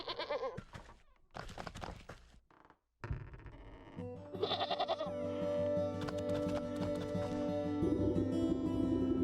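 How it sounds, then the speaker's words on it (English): A goat in the video game Wytchwood bleats several times, wavering and nasal, at close range over a steady musical background with no talking. "We have a goat in the house."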